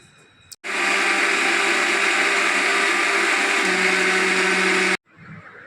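A kitchen blender grinds vanilla sponge cake batter with butter, a loud steady whirring drone that runs for about four seconds alone, then cuts off abruptly.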